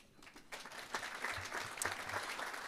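An audience at an awards gala applauds, a soft, moderately distant patter of many hands that swells slightly and stays steady, with no voices over it.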